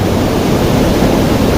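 Sekar Langit waterfall roars loud and close, a dense, unbroken rush of falling water with no voices.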